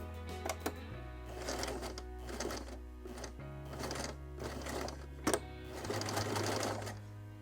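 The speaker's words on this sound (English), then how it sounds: "So you want to make sure that when you sew down that your needle's going to be beyond that line." Sewing machine stitching a cloth diaper pail liner, running in steady mechanical bursts with short pauses and changes in speed throughout, fairly close and with no talk.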